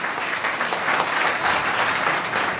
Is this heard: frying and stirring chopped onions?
no